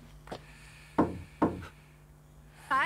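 Knuckles rap on a wooden door in an anime scene, a few separate hollow knocks spaced apart and heard close, followed by a short voice at the end.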